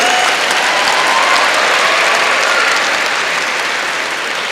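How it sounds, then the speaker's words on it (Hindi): Dense, steady applause from a large audience at a school education function, held at an even level across the whole stretch with no voices standing out. "तो लड़कों के लिए एक बार ताली होनी चाहिए।"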